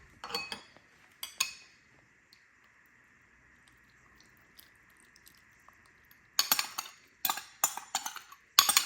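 Brussels sprouts tossed and mixed in a bowl: bursts of clinking, rattling knocks at the start and again in a busy cluster toward the end, separated by a quiet stretch with a faint steady tone.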